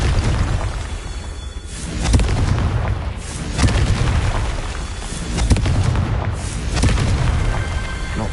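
Bombarda and Confringo spell explosions in Hogwarts Legacy, a dense, loud sequence of booming blasts and bursts repeating every second or two, close and continuous, with rumbling tails overlapping throughout.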